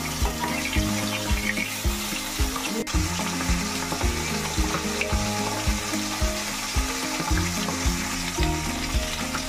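Pomfret fish frying in hot oil, a steady, close sizzle that holds throughout over a rhythmic low background pattern.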